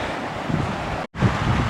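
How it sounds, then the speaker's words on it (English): Mountain stream pouring over small cascades below Mica Lake in Grand Teton, a steady close rush of water with broadband hiss and low rumble, broken by a brief dropout near the middle. "Beautiful stream coming from Mica Lake."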